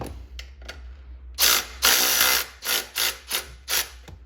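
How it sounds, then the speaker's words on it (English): A ratchet tightens a 12mm bolt on a Toyota 3.4L engine, a few faint clicks followed by several loud, rapid ratcheting bursts close by with short pauses between. "we'll just take that 12mm bolt and put it back in"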